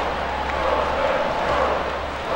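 A home crowd at an ice hockey game in the video game ESPN NHL 2K5 keeps up a steady, loud roar of cheering, with no clear breaks across the clip.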